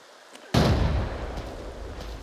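A sudden loud grenade blast in the game Arena Breakout: Infinite erupts from near silence, followed by a rumbling, crackling decay that lingers and slowly fades.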